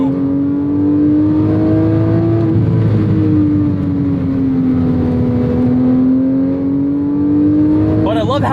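Porsche 911 997 GT3 engine under way on the road, a loud, steady, close mechanical drone that rises and falls gently with throttle, cabin road noise underneath and a brief blip of rev change at the end.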